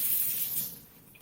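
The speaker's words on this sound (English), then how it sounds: "And rinse it." Tap water runs into a kitchen sink as a peeled zucchini is rinsed, a short hissing splash that is strongest at first and then fades into a softer trickle, with no voices.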